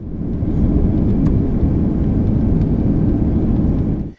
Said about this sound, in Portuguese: o avião levantou o voo pouco antes das 5, com destino a Recife